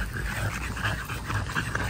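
A small micro or nano bully dog whimpers and yips softly, with faint intermittent whines over a dense, noisy background.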